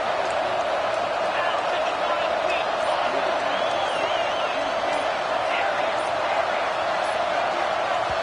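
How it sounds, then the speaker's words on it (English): Roaring crowd at a college football stadium, a dense, unbroken wall of noise that stays loud throughout while a commentator talks over it. "with this place rocking, the crowd forces a false start"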